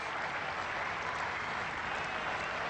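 Cricket crowd at a 1993 Sri Lanka versus England test match applauding a batsman's half-century, a steady, dense wash of clapping held at a moderate distance for a few seconds without letup.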